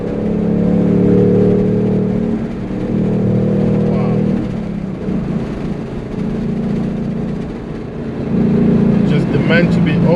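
A 2019 Ford Mustang Bullitt's 5-liter engine pulls hard, its steady droning note climbing and dropping through gear changes from inside the car, with someone talking over it.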